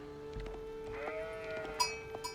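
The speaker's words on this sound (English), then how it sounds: "Oh, no, he's going to pick up this sheep." Short bleats of sheep in a strategy video game, a few brief calls over a quiet backdrop of game music, with no talking.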